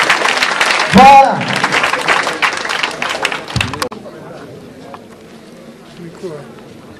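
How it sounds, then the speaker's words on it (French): Children clap for an incoming guest of honour at an outdoor school excellence-day ceremony, a dense, loud burst of applause over the first four seconds that fades into quieter crowd murmur, with someone speaking near the start. "Applaudissements chez les enfants pour votre parrain qui vient maintenant."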